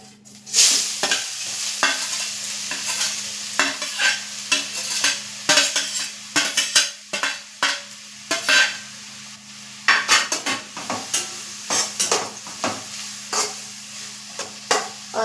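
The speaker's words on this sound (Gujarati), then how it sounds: "જે દૂધીનું છીણ છે તેને આપણે કીમા બરાબર શેકી લેશું" Grated bottle gourd stirred and roasted in ghee for dudhi halwa, a soft steady sizzle broken by repeated scraping and clinking of a spoon against the pan, close and without talk.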